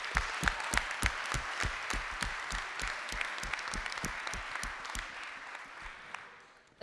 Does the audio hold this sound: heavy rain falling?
no